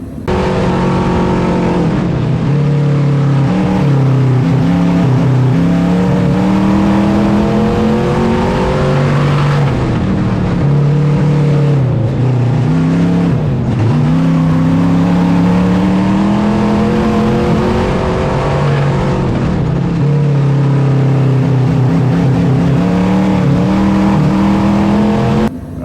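A race car with a small-block 305 engine roars close and loud, its revs rising and falling through repeated acceleration swells as it works through corners and straights, continuous with no talking.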